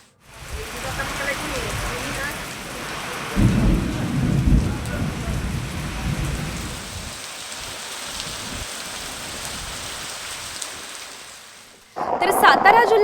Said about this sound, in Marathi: पावसानं दमदार हजेरी लावली